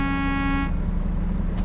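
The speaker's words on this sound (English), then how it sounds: "Are you honking at me? Yeah, I'm honking at you." A truck horn in American Truck Simulator gives one loud, sustained, buzzy honk lasting under a second over constant engine rumble, then cuts off.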